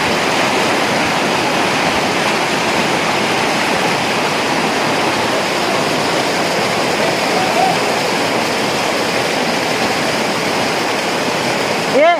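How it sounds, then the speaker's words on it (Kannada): Strong floodwater from heavy rain in Belagavi rushes past in a loud, continuous roar that stays steady and close throughout. "ಹೇಳ ನೀರು ಜೋರು ಐತಿ ಜಗ್ಗತೈತಿ."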